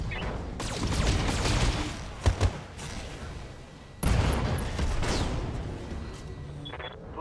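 Mech weapons firing in the Battletech video game, two long salvos of dense crackling shots and booms separated by a brief lull with a couple of sharp impacts, while a voice speaks faintly.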